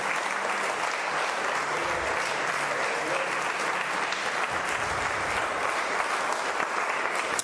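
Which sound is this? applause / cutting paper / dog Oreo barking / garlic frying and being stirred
applause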